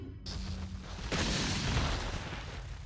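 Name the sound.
flashbang grenade going off in video game Resident Evil 4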